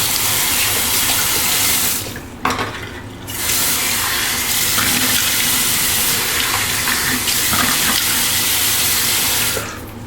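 After a shave, water runs loudly and steadily from a tap into a sink for rinsing, with two brief breaks where the flow is interrupted before it resumes.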